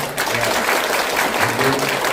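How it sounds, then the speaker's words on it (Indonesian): Church congregation bursting into loud, dense applause, a continuous wash of many hands clapping together at close range for a couple of seconds. "Boleh kasih tepuk tangan sekali lagi buat mereka."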